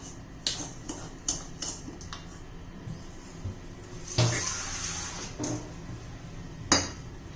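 A spoon scrapes and clinks against a bowl while semolina and yogurt are mixed, quiet intermittent taps and a short swishing stir, close and without talk.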